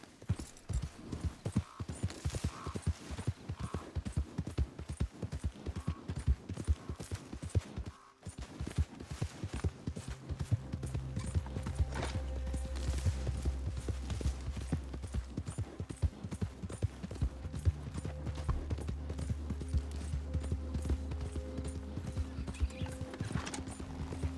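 A horse gallops in Red Dead Redemption 2, with rapid, continuous clip-clopping hooves throughout. The hoof rhythm briefly breaks, then resumes under a low droning game score, with a brief word spoken over it.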